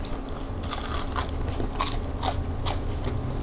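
Crisp bites and chewing of the crunchy homemade crust of a grandpa pizza, several sharp crackling crunches close up over a soft background, with no talking.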